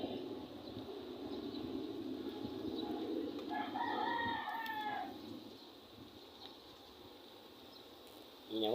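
A chicken clucks briefly in the middle distance over a steady outdoor seaside ambience at Manila's SM Mall of Asia, with faint background noise throughout.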